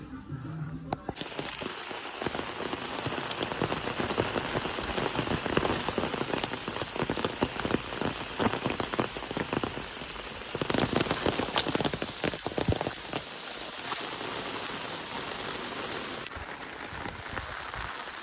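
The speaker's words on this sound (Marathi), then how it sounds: "खूप जोरात पाऊस चालू आहे, बघू शकतात." Steady, heavy rain pours down for the whole stretch, a dense hiss with countless drops spattering on surfaces nearby, easing only slightly near the end.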